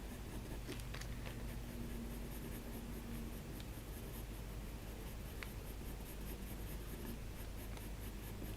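Graphite pencil scratches and strokes across paper in a close, continuous, soft scraping texture, with occasional brief taps and no talking.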